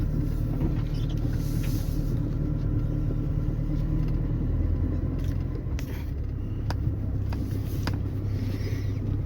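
A car rolls along a dry dirt track in Rendlesham Forest, giving a steady low engine and tyre rumble that stays close and even throughout, with no one talking.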